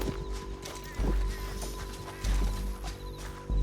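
Horse in the Red Dead Redemption 2 western game, with rhythmic hoof clip-clops and heavy thuds repeating over a low rumbling bed, fairly close and steady.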